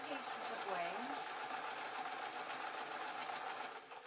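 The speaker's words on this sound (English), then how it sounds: "I'm going to sew these together. So we've got two pieces of wings." A sewing machine stitching fabric owl wing pieces together, a fast steady mechanical whir running continuously and close, with a voice speaking over it at the start.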